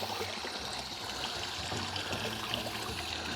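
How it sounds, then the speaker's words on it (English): Water is dumped from barrels outdoors, a continuous rushing, trickling pour with a steady moderate level and no talking. "So I'm gonna finish dumping this water in from these barrels."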